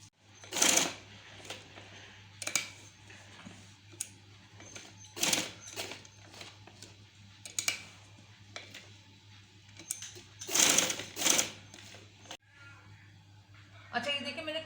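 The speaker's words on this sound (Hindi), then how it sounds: "अब मैं इसके चारों तरफ जो है सिलाई कर दूंगी, ताकि मजबूती आ जाए थोड़ी सी" Homemade sewing machine cover being stitched on a sewing machine: short bursts of machine stitching recur every few seconds over a steady low hum, with someone talking throughout.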